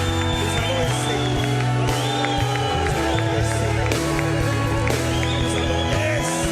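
A church congregation cheers and applauds in worship, a loud, dense crowd roar with shouts and clapping over sustained music, continuous and close throughout.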